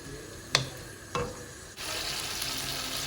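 Green beans and potatoes cook in a pan: two sharp utensil knocks sound over a low sizzle, and then a louder, denser frying hiss sets in and holds steady, with no talking.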